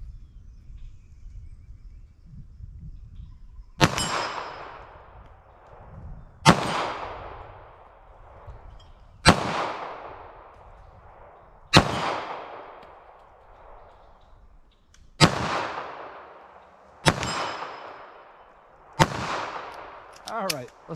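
A pistol fires full metal jacket rounds: seven sharp, loud single shots spaced a few seconds apart, each with a short ringing decay, against quiet background rumble.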